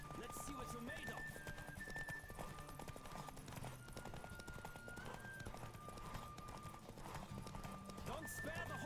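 A horse gallops hard in a race in The Witcher 3, its rapid hoofbeats pounding continuously with occasional neighs over a busy game soundscape, with voices talking throughout.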